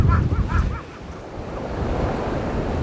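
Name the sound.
strong wind on seaside rocks at Enoshima, Japan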